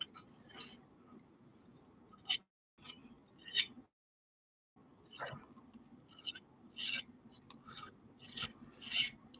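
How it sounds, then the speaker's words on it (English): A hand file rasps against a non-ferrous metal hammer head in a series of close, gritty strokes, with short uneven gaps between them and one clear pause partway through. "I don't worry as much when I'm filing non-ferrous metals because they won't rust"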